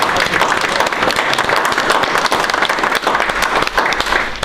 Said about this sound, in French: Donc on va vous applaudir déjà.